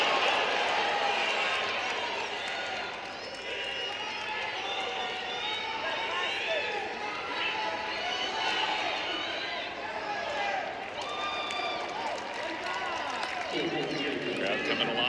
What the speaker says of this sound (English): Crowd coming alive for the 3rd place match